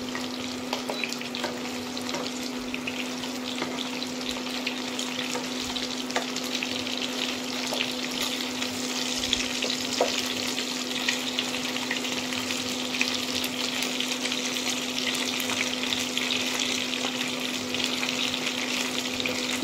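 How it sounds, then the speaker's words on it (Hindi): Chicken Manchurian pieces fry in oil in a pan, making a dense, steady sizzle with light bubbling and a constant low hum behind it, close up and without talk. "देखिए मैं ये सबको पहले फ्राई कर लेती हूँ"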